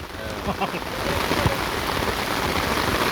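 Heavy rain pours steadily onto an open football field, a dense, even hiss of drops that fills the whole stretch at close range, with faint voices under it.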